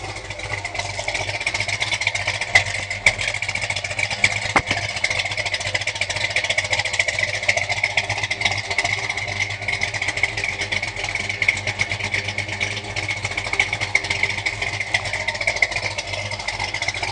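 A 1963 Plymouth Savoy with a 426 street wedge V8 idles steadily, a continuous low mechanical rumble with a faint, even clatter that stays constant and close throughout, with no voices.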